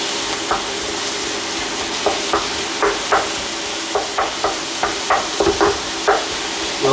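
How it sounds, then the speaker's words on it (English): Onions cook in a hot pan with an even, loud sizzle, broken by regular scraping stirs roughly every half second. "let's turn up the heat and cook the onions up"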